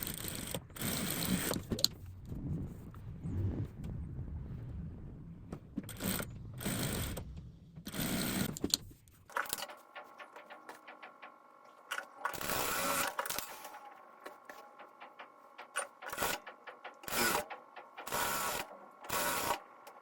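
A sewing machine stitches a patchwork block for a cushion cover in several separate runs, each a rapid mechanical whirring and clatter. Quiet gaps fall between the runs, and a low hum sits under the later part.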